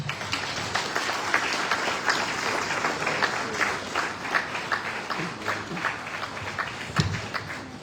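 Audience applause fills a meeting hall after a speech at a national steering committee session at Monrovia City Hall in Liberia: steady, dense clapping from a sizable crowd, sustained and fairly loud, with a few sharper claps standing out near the end.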